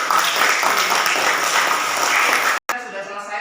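A classroom of students applauds after a group presentation, a dense, loud wash of clapping that runs steadily and then cuts off abruptly near the end, leaving fainter room noise.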